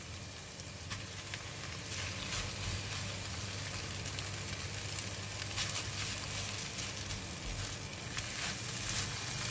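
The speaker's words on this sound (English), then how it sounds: "And now I'm putting in the rice" Rice frying in a pan with stirred egg for crispy anchovy fried rice, a steady low-level sizzle with faint scraping and crackles, no talk.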